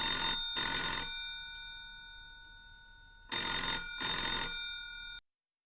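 An old-style telephone bell rings in two double bursts separated by a pause, loud and close, then cuts off abruptly.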